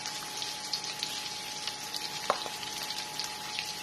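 Luncheon meat and garlic fry together in a pan, giving a steady close sizzle with a few sharp pops and crackles and no voices.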